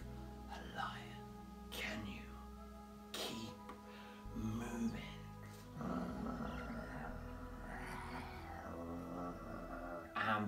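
Children imitate lion roars during an indoor movement and exercise game, with growly vocal bursts rising over steady background noise and some adult talk nearby.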